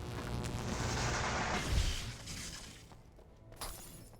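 Flashbang grenades going off during a fight in the video game Alan Wake, a loud continuous burst of shattering, booming noise that peaks sharply and then thins out, with another short crack near the end.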